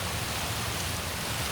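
Rain falling at night, a steady dense patter and hiss of drops on surfaces, even and unbroken, heard alone without voices.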